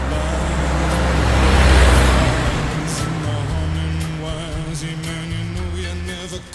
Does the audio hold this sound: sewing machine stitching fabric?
no